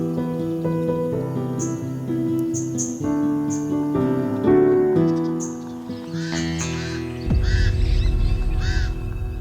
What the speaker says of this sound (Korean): 알락까마귀가 야유를 보냅니다.